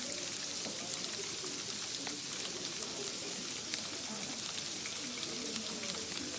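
Extremely heavy sleet falls outdoors during an Easter winter storm, a steady dense hiss of pellets with scattered ticks and taps on surfaces, continuous and fairly soft, with no voices.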